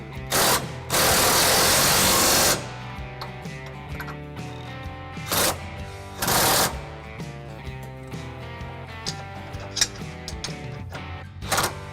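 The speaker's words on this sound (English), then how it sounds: "I'll start with the most rear bolts, which again is going to be a 21 millimeter with a 5-inch extension" A 21 mm socket on a 5-inch extension driving rear hitch bolts on a 2017 Chevy Silverado 1500, clicking ratchet strokes mixed with a few loud bursts of power tool whir and pauses between, no speech.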